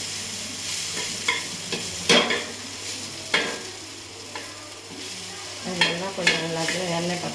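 Chilli powder frying in hot oil for podi idli, a soft steady sizzle broken by occasional sharp stirring scrapes and clinks of a spoon in the pan, close and moderately quiet.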